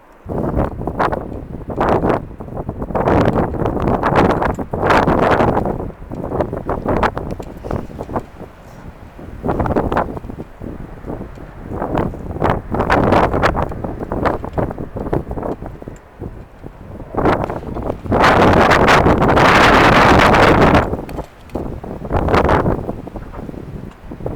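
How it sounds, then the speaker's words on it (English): Outdoor wind in a snowy setting gusts hard against a microphone on a tripod, heavy buffeting rumbles that surge and fade irregularly, loudest in a long roaring gust around the two-thirds mark. "that puff of wind actually lifted one leg of the tripod up"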